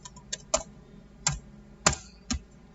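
A few sparse keystrokes on a computer keyboard while entering a command, six or so distinct clicks spaced irregularly, close and quiet with no talk.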